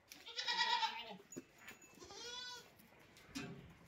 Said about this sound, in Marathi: तर तुम्ही बघू शकत असाल आमच्या या शेळ्या.